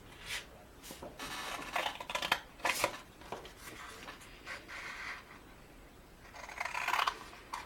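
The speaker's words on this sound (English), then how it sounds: "We're going to cut this whole section off up into this little tiny" Cutting a section off along a score line with scissors, a string of crisp snips and scraping cuts in irregular bursts, close and moderately loud.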